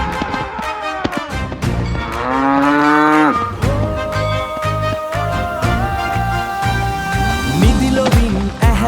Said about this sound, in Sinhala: අනේ මේ හරක පිස්සු වැටිලා